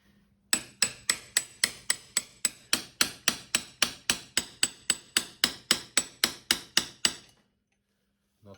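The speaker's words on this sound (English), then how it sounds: "Then you put the top one and you hammer it home." Steady hammer blows drive a part home on the front end of a Triumph Tiger 1050 motorcycle, about twenty sharp metallic strikes at an even quick rhythm, close and loud, then silence.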